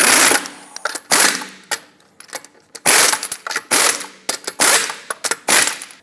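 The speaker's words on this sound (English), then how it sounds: "in a cross pattern, torque them to 76 foot-pounds" A torque wrench ratchets on the lug nuts of a 2014-2019 Toyota Highlander wheel, with bursts of rapid clicking and metallic clatter, pausing and repeating close by, no talking.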